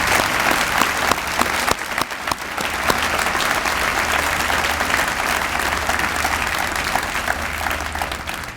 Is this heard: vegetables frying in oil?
no